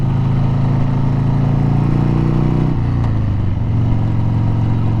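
Harley-Davidson Sportster motorcycle engine running loud and steady nearby, a deep throbbing rumble that shifts lower partway through as the bike takes off, with no talking.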